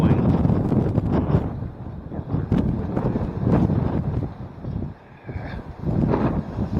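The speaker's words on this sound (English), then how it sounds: "when the wind blows, it's just like a sail on this fence" Gusty wind flaps a shade cloth stretched along a fence during a winter polar blast in Kansas, a loud, rough buffeting roar with bursts of flapping and a short lull before it picks up again.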